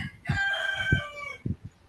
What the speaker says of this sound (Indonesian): Ayam siapa tuh?